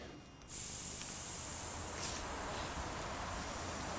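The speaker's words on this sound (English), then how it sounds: "This is the bit I really hate, is the spraying." A sharp hiss starts abruptly as an aerosol spray is released, continuing steadily and close for several seconds.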